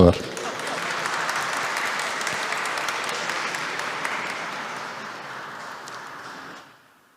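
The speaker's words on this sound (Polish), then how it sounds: "Brawa dla" Sustained audience applause at a Polish fathers' retreat talk, a steady dense wash of clapping lasting several seconds before fading out abruptly near the end.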